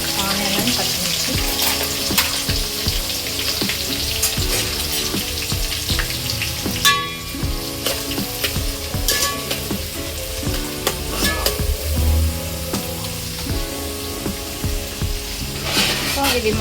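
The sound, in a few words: onions and green chillies frying in a pan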